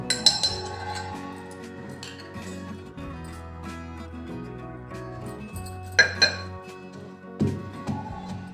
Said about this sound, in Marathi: तीळ व गूळ खलबत्त्यात छान बारीक करून झाले आहे।